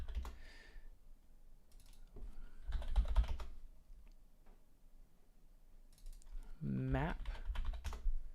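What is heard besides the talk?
typing on a computer keyboard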